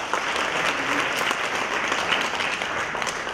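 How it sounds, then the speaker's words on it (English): A seminar audience applauds steadily as the next speaker is welcomed, a dense, even patter of many hands clapping without a break and with no voices on top. "Thank you very much for the rich applause"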